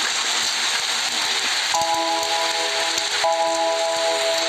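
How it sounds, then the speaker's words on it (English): Steady rain hisses and patters continuously, with faint sustained musical tones underneath. "Look, Peter, it's raining."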